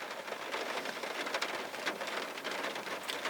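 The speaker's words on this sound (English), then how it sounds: "it's raining" Steady rain falling and pattering on surfaces, a dense continuous hiss with scattered drop impacts throughout, no voices.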